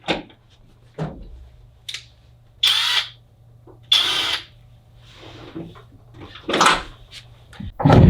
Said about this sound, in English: using 2 Phillips screws, we're going to secure this clasp onto the locking rod